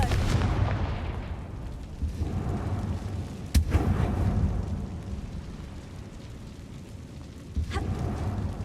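Confringo fire spell blasts in the Hogwarts Legacy video game, a few loud booming explosions with rumbling tails, one sharp burst near the middle and another toward the end, over continuous low battle rumble.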